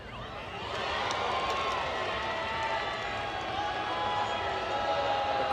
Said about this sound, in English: The crowd letting them hear it.